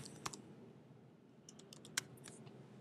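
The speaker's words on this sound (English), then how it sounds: "you type an equal sign and the function" Computer keyboard being typed on while entering an Excel formula: a few sparse, quiet key clicks with short pauses between them, heard alone with no talking.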